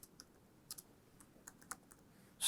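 Scattered key clicks from a computer keyboard as code is typed, a few sparse, light taps spread over a couple of seconds against a quiet room, with a sharper burst at the end.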